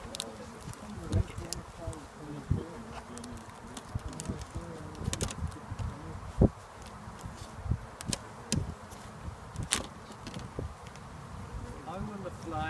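A low, steady hum of many honey bees buzzing during a nucleus hive transfer fills the air, with scattered clicks and knocks nearby and people talking quietly underneath.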